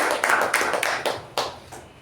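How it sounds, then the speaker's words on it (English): A small group claps at a club meeting, a brief, close burst of uneven hand claps that thins out and fades within a couple of seconds. "Let's give a round of applause for"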